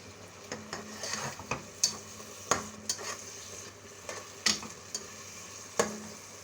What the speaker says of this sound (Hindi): अब इसको अच्छी तरीके से भुनाई कर लेंगे।